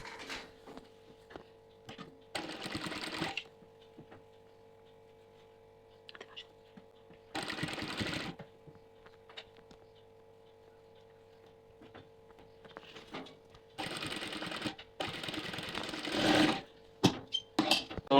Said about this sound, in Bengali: দেখুন আমি কিরম ভাবে চাপ সেলাই দিচ্ছি